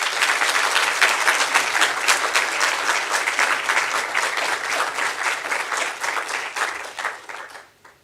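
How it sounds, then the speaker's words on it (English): An audience at an inaugural university lecture claps warmly for the professor in dense, sustained applause that holds steady for about seven seconds and then fades out. "I think Professor Neneh deserves another round of applause."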